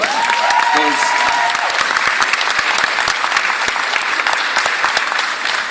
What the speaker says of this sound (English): Should we give her another round of applause?